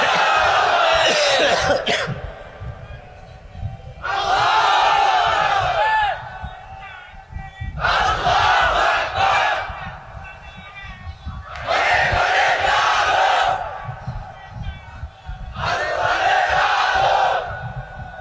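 A large crowd at a religious sermon roars a takbir chant in unison, repeated in five loud bursts separated by short pauses, with voices overlapping and echoing.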